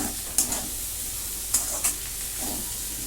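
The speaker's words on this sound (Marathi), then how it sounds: "आता याच्यात बारीक चिरलेली कोथिंबीर टाकून घेते मिक्स करून घेते" A spoon stirs soft steamed potato bhaji with finely chopped coriander in a pan, three or four short clinks and scrapes over a quiet steady sizzle, close and without talk.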